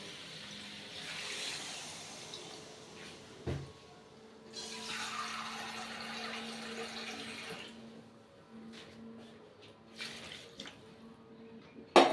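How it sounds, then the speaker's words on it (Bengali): Water is poured into a pan of kohlrabi and potato curry, a soft rushing pour in a few bursts, with a clank and quiet kitchen noises between. "এবার আমি জল দিয়ে দেবো"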